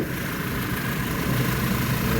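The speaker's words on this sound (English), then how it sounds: "show you the engine. And I did just start it up, so we'll hear it running" A 2010 Audi A4 2.0T engine runs at idle just after starting, a steady, even hum with a light whirring layer and no distinct ticks, heard up close.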